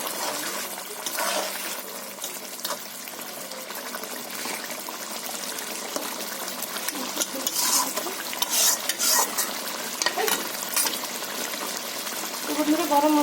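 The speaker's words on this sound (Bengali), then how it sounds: "বন্ধুরা আমি ঝোলের মাছটা দিয়ে দিচ্ছি।" Tilapia pieces going into a simmering fish curry with drumsticks and potatoes, a spoon scraping and stirring against the pan in repeated clinks and scrapes over a bubbling, watery background.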